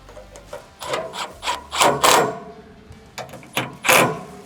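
Screws are driven into a cover plate with a Phillips number 2 bit, giving a series of short scraping, rasping bursts of turning and seating, fairly close and with no talk.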